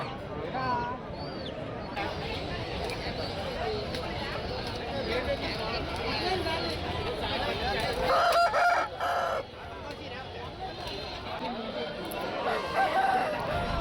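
Roosters crow amid a busy Friday morning market in Thimiram, with clucking fowl and a steady crowd murmur of voices throughout.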